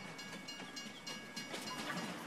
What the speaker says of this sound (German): Oh ja, da kommt mal hin und der Zug fährt ab.